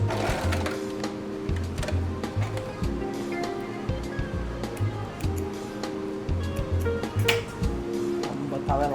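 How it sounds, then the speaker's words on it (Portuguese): A sewing machine stitches a seam down the middle of fabric to hold elastic, a close, rapid mechanical whirring with brief stops and starts, alone without talk. "agora a gente vai fazer uma costura no meio para depois passar um elástico por cima e outro por baixo"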